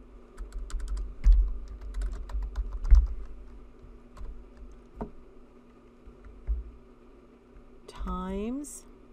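Quick bursts of computer keyboard typing while entering a calculation, faint and close, with a few louder clacks early on and a person talking in between.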